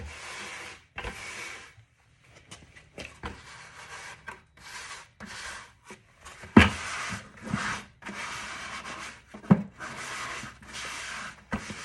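Repeated wet rubbing and scrubbing strokes of a wet sponge, close and fairly steady, with short pauses between passes and a few louder swipes.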